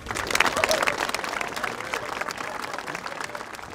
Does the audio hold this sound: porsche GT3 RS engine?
no